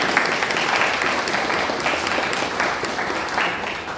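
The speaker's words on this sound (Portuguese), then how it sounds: "Palmas para Jesus." Audience applause after a motivational lecture, steady clapping from a crowd filling the room at an even level throughout, with no speech over it.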